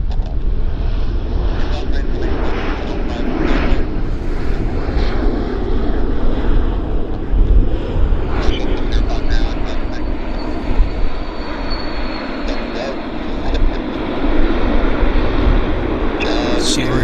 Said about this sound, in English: Q400 is landing